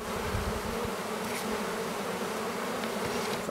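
Honey bees from a wild hive built inside an old abandoned car drone in a dense, continuous buzz, close and steady throughout, with no voices.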